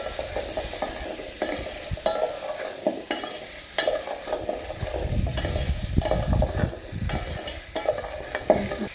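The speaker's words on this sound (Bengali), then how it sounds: "হলুদ গুঁড়ো দিলাম 1/2 চামচ, দিয়ে ভালো করে নেড়ে চেড়ে নেব" Turmeric powder is stirred into a taro and prawn curry in a pan: a spoon scrapes and knocks against the pan over a soft, steady sizzle, with no talking.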